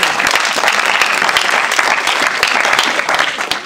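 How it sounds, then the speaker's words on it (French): A church congregation at a Sunday service applauds steadily and loudly in a dense, continuous round of clapping with no pauses. "Acclame pour toi-même."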